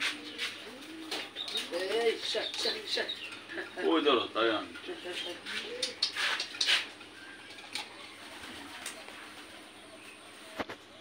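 Low pigeon coos repeat through the clip, close by, mixed with people talking in the background.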